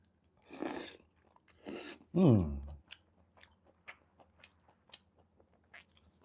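Lor Mee noodles, a Singapore street food dish, being eaten up close with chopsticks: two short bursts of wet slurping, one loud noodle suck, then a run of soft chewing and smacking sounds.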